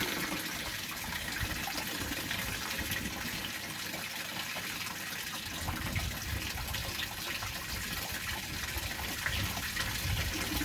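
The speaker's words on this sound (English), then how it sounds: "The inflow of water is probably going a little bit too quick" Water pours steadily into an aquaponics tank, a continuous loud rushing gush that stays even and unbroken throughout.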